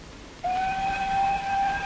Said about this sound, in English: That train again.